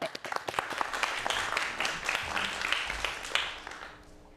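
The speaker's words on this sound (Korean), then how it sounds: "자, 박수로 좀 청해 보도록 하겠습니다." Audience applause at a televised Korean lecture on aging and exercise, a dense patter of many hands that fades toward the end, heard alone.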